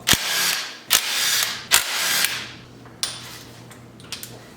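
A ratchet wrench loosens engine bolts on a 1996-2000 Honda Civic, giving several sharp clicking and clacking bursts close by, each followed by a short whirring ratchet spin, then fainter clicks.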